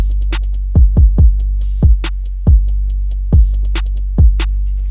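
A basic programmed beat with deep booming 808-style bass kicks under a steady rhythm of crisp open hi-hats, looping evenly and loud, with no voice.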